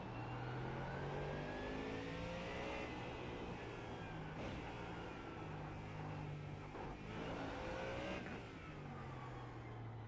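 A Ford Mustang GT3 race car accelerating at Miami International in the iRacing game, the engine note climbing steadily through the revs as it pulls, loud and continuous with no talking.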